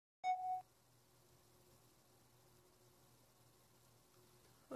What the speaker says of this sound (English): I thought my phone stopped recording. It beeped at me.